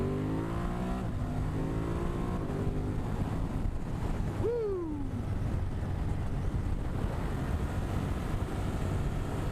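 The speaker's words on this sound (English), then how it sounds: "now we're gonna get some good acceleration right here" A Ducati Monster 1200 S motorcycle accelerates along a straightaway, its engine note rising through a gear, with a brief pitch swoop mid-way, heard from the rider's position under heavy, constant wind rush.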